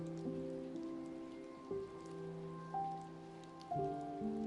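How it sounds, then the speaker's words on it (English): Steady rain falling as a soft, hissing wash, heard faintly beneath sustained gentle musical tones that shift in pitch every second or so. "She loved the feeling of raindrops on her face."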